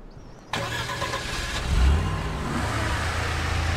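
An off-road vehicle's engine starting abruptly in Expeditions: A MudRunner Game, then revving and settling into a loud, steady idle.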